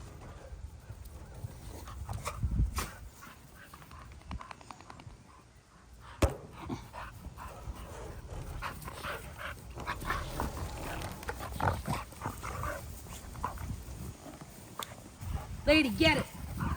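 Pit bull dogs play roughly together, with scuffling, thumps and low growls under frequent talk from a woman encouraging them.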